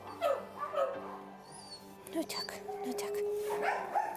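Shelter dog whimpering and yipping with a few short barks, close by and fairly quiet, while a person speaks over it.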